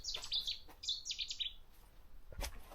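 Cetti's warbler singing in the reedbeds at Hickling Broad, with several short, bright, explosive bursts of song repeated close by over a quiet outdoor background.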